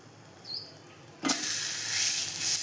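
Urad dal dosa batter hits a pan over a low flame with a sudden sizzle that swells into a steady frying hiss, close and fairly loud.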